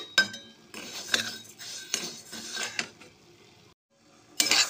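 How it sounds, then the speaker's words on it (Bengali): Mung dal dry-roasting in a pan, heard as a series of rattling, scraping stirs with grainy clinks against the metal, separated by short quiet gaps, ending in a sharper burst; no speech. "এটাকে প্রথমে শুকনো খোলা ভেজে নেব"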